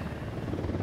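Helicopter rotor drone in the video game Ghost Recon Wildlands, a steady low thrumming chop heard alone at a moderate distance for a brief moment.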